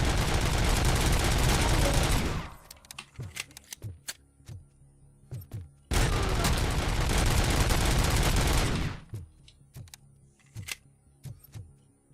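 Two long, loud bursts of rapid automatic gunfire in RoboCop: Rogue City with unlimited ammunition, each dense volley lasting a couple of seconds, followed by scattered sharp clicks and single shots.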